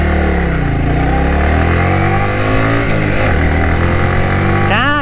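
A motorcycle being ridden for wheelies drones loudly and steadily up close, its engine pitch sliding up and down, then revving sharply near the end.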